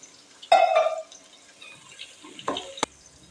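Water splashes onto rice in a cooking vessel for chicken dum biryani: a short, fairly loud gush of about half a second, then a few fainter drips and clinks against the pot.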